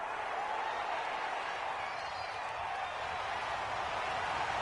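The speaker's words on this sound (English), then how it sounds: "How about some applause for the defense there?" A dense wash of crowd noise with applause, steady and broad throughout, like a stadium audience cheering at a distance, in an American football video game.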